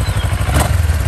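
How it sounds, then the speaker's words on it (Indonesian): Kawasaki ER-6F motorcycle with its stock exhaust running close by, a loud, steady low engine pulse with rapid rhythmic throb and no talk. "kita akan langsung aja coba untuk mendengarkan suaranya dari motor keren ini guys"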